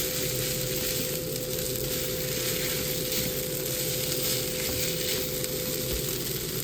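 Stir fry sizzling hard in a hot frying pan, a steady dense crackle that runs without a break, close and loud, with no one talking over it.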